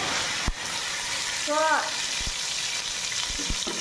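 Ginger paste fries in hot oil for pulao, giving a steady close hiss of sizzling with a couple of sharp knocks from utensils and a brief voice-like tone partway through.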